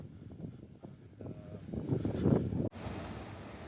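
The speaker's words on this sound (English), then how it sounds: "I love the sound of the constant running water here" Constant running water at a dam in a forest makes a steady, rushing wash of noise, with wind gusting across the microphone and a sudden cut partway through.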